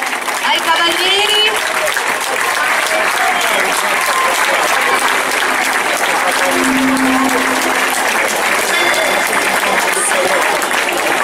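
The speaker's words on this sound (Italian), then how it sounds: "Facciamo un applauso ai cavalieri." Sustained applause from an audience at an equestrian exhibition of horse riders in pairs in Sassari, loud and steady throughout, with voices mixed into the clapping.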